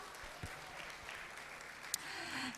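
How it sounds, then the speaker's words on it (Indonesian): Faint, steady applause from a talk-show audience keeps up as a dense wash of scattered claps, distant and low in level, with one sharper clap near the end. "Mari kita berikan tepuk tangan dulu untuk Ibu Susan"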